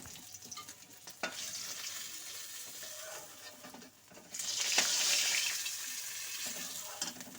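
Rohu fish sizzles and bubbles in hot oil in a kitchen pan, a steady close frying hiss that surges louder midway as the pieces are lifted and drained.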